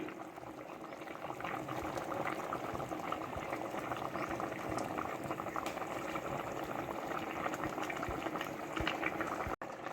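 A brinjal and egg curry with curry leaves simmers over a slow flame with a steady, even bubbling. The thick bubbling stays close and constant for the whole stretch, with no voices.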